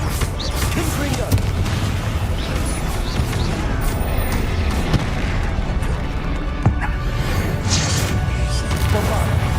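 Repeated Confringo fire spell blasts in Hogwarts Legacy: loud, dense booming impacts and crashes rolling through a busy game battle for several seconds, with voices speaking underneath.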